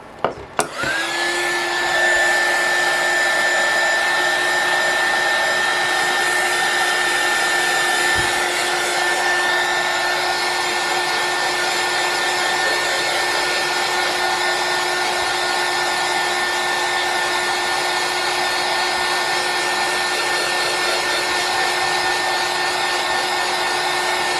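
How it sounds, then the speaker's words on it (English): A heat gun blowing over vinyl wrapped on a cup runs as a loud, steady, close whooshing hum with a constant whine, switched on with a click and running unbroken to the end, with no talk. "So I'm going to go ahead and turn this heat gun on."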